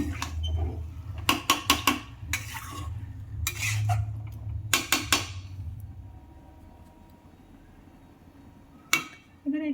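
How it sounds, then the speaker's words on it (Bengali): A spoon knocks and scrapes against a pan while chicken curry with green chili paste is stirred, sharp clustered clacks in bursts over a low hum of cooking, with faint speech nearby. "এটাকে আমরা ভালো করে নেড়ে নেব"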